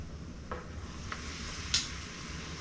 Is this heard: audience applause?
no